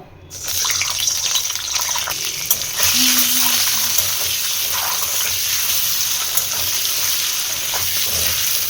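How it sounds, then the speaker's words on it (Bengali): An egg fries in mustard oil in a wok: a steady, loud sizzle runs throughout, with a brief faint tone partway through. "কড়াইতে দেখো দিয়ে দিয়েছি সর্ষের তেল। ফার্স্টে ডিমটা ভেজে নেব।"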